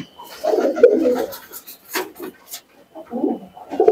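Andhra tournament pigeons, housed as breeding pairs, give low throaty coos in separate bursts at close range, with brief quiet gaps between the calls.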